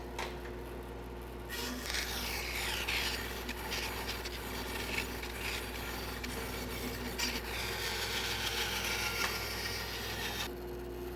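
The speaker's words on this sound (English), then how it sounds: "I'm going to cut off as much excess as I can here at the bandsaw" A bandsaw cuts excess wood from a shelf piece, a steady, faint whirring and rasping blade hum running throughout with a slightly rougher stretch in the middle, no voices.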